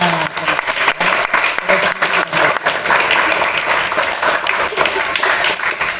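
Loud applause from a Catholic youth retreat audience in a parish hall, dense overlapping claps with sharp individual hits, sustained throughout; a voice or cheer may briefly rise within the clapping.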